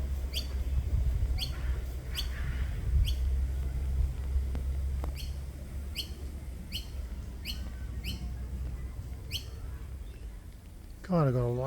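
Birds near a suburban Sydney spot give short, sharp chirps at irregular intervals over a low steady hum and background murmur, ending in a brief rising warble.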